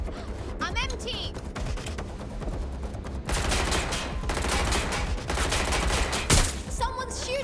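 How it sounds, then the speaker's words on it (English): Rapid bursts of automatic gunfire ring out in the video game Watch Dogs: Legion, several volleys in quick succession over game ambience, with a voice speaking briefly. "Someone's shooting."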